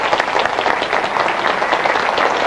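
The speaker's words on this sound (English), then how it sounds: "give him a big hand and a big round of applause." An audience at a seminar giving a dense, steady round of applause, many hands clapping together at close range with no voices over it.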